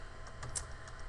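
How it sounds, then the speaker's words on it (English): Quiet keystrokes on a computer keyboard while entering an IP address to set up a Linksys E2000 router, a few light taps spread over a second, faint and close. "what I want to do is I want to type in that IP address"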